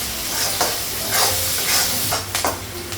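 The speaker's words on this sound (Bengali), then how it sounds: "পাঁচফোড়ন দিলাম, কাঁচা লঙ্কা দিলাম, পেঁয়াজটা একটু ভেজে নিই" Onion frying in oil with panch phoron and green chili, a steady close sizzle punctuated by several spatula scrapes and stirring knocks against the pan, no talking.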